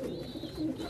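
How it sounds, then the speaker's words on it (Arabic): Pigeons in a wire cage give a brief low throaty coo, close and soft, lasting under a second with no talk. "الحمام قاعد يخربط في السلك، بص عليه."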